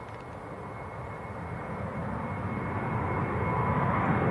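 Jet2 airliner on the ground at Manchester Airport bound for Salzburg, a steady broadband engine roar that swells gradually louder over a few seconds, no talking.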